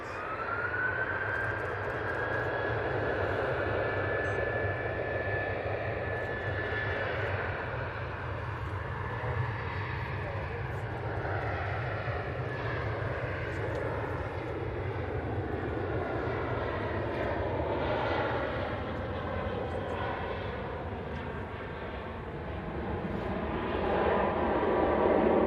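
A KLM airliner taxis at Manchester Airport, its engines a continuous broad whine and rumble heard at a moderate distance, rising slightly toward the end, with no voices.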